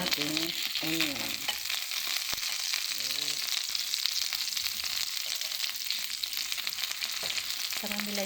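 Onion caramelizes in a hot pan for homemade burgers, with a steady loud sizzle and occasional stirring scrapes and a brief voice near the start.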